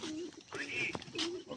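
Pigeons coo softly in a few short, close calls, mixed with people talking nearby.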